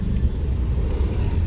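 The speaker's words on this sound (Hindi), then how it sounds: "छोड़ो क्लच, जान दो गाड़ी" A car driven by a first-day learner pulls away as the clutch is released, giving a steady, close, low engine rumble throughout with no voices.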